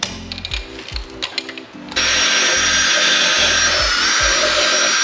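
Power tools removing car wheels in a garage: a rapid pulsing rattle of an impact tool, then a loud continuous high whine that holds steady to the end.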